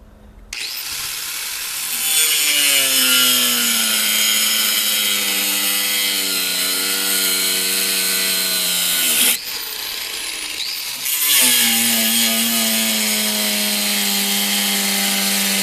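A power saw cuts through a car's steel sway bar. It makes a loud, sustained whine with a gliding pitch that dips as the blade loads, pauses briefly, then starts again and runs steadily. No voices are heard.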